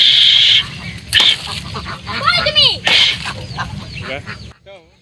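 Ducks from a village pond quack and honk in loud, close bursts, several calls overlapping, mixed with a person talking and hissy noise between calls.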